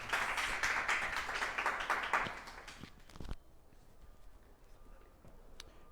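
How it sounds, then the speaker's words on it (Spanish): Audience at an academic scientific talk claps to welcome a guest speaker, a dense burst of hand claps for about three seconds that ends abruptly, followed by a quiet room with faint rustling. "quiero un aplauso para recibir a nuestro invitado"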